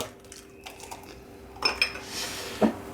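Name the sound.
egg being cracked into a bowl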